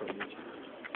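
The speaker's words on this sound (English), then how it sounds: "Bird." A pigeon cooing nearby, soft low repeated coos with a few brighter bursts, heard alone without speech.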